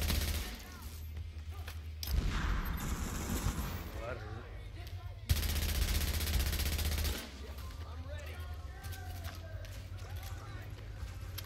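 Turret gunfire in the video game The Division: sustained bursts of rapid automatic fire, loud and close, running for a few seconds at a time, with breaks of quieter in-game ambience between them.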